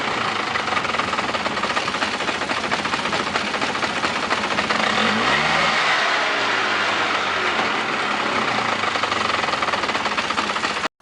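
A Polaris ATV quad engine revs under throttle, its loud, steady drone rising through a sweeping pitch change mid-clip before easing back, with no one talking.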